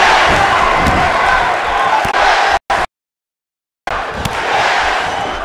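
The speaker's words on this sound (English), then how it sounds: "this Kansas City crowd sounds more than ready for this one" A Kansas City arena crowd in the WWE 2K18 wrestling video game roars in a dense, steady wash of cheering, broken by a second of dead silence before resuming.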